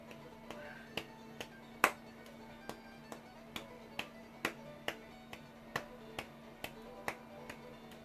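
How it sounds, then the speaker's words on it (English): Faint, evenly spaced sharp claps keep a steady beat, about two per second, over quiet background music indoors during a live stream. "clapping to the beat of the song that's going on in the background here"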